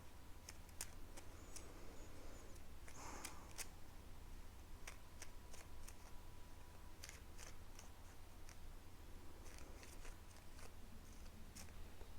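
A deck of pick-a-card cards being shuffled by hand, giving steady soft riffling and sharp card snaps throughout against a constant low background hum, with no talking.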